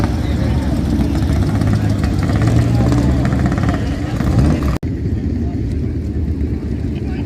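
A kit car trike engine at a vintage and classic motorcycle hillclimb gives a steady, loud, close mechanical drone with a rising whine partway through, under occasional talk.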